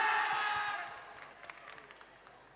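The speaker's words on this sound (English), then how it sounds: "Cheer for your school!" A school crowd cheering at a festival event, a loud burst of shouts and whoops that fades quickly into scattered claps and faint chatter.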